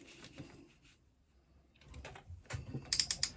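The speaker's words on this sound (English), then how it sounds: "And I'm just stitching on the strap connector" Sewing machine stitching across a strap connector, quiet mechanical clicking and whirring that stops briefly, then returns with a faster rapid run of needle taps near the end.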